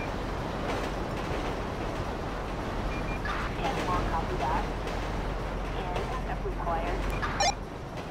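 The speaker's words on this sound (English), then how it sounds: "Yeah, there's a train right there." A train rumbles through a train yard near US Route 1 in the video game GTA 5, a steady low mechanical roar running underneath someone speaking over it.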